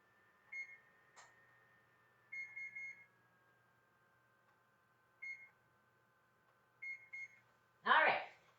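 An oven timer beeps in short clusters as buttons are pressed to set it in a home kitchen, quiet and close, with a brief clatter at the end.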